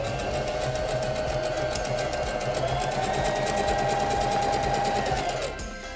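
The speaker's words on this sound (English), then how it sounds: "we can spread those zigzag stitches out even further by turning the stitch length dial up to" A SINGER Denim sewing machine runs a zigzag stitch at a longer stitch length, a steady close mechanical whir with fast rhythmic needle ticking that holds evenly for several seconds, then winds down and stops near the end.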